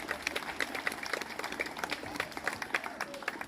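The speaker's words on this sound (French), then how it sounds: "Il faut les applaudir très fort, s'il vous plaît." An audience in a show venue in Nice claps after a hypnosis act, a brisk patter of many hands at moderate volume, with some background voices underneath.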